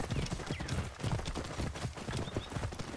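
Rapid clip-clop of galloping horse hooves during a horse race in the video game Assassin's Creed Origins, close and rhythmic, over a busy background.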